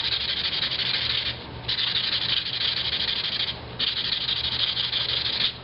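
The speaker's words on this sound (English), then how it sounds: "Just sand it radially and rotate the CD around." Someone sands an Xbox 360 disc radially, rotating it between passes, making close, continuous hissing and rubbing strokes in long bursts separated by brief pauses, with no voices.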